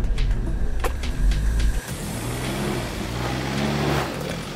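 An off-road vehicle towing a trailer along a bush track rumbles and labours, with knocks and rattles early, then a steadier engine drone, close and continuous.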